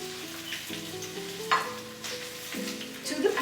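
Sausage fries in a pan while a utensil stirs and works it, a continuous close sizzle with soft scraping strokes and a brief louder clatter, no talking.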